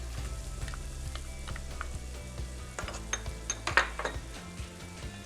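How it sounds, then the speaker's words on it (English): Garlic, Scotch bonnet pepper, thyme and scallion sizzle quietly in a pan, with a steady low fry and scattered clinks and scrapes of a utensil stirring against the pan. "Adding in my garlic now, my Scotch bonnet pepper, my thyme, scallion,"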